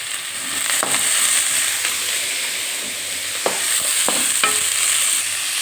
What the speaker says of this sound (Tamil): வெங்காயத்தை போட்டு வதக்க, சட்டியில் எண்ணெய் ஊற்றிட்டேன்